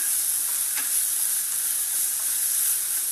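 Onions and small green chilies sauté in a hot pan for a Mangalorean egg roast, a steady bright sizzle with a soft stir or two, close and unbroken.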